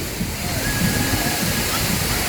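Continuous broadband rush of falling water from a waterfall behind the Cliffhanger ride at Flamingo Land Resort, steady and fairly loud throughout with faint crowd murmur underneath.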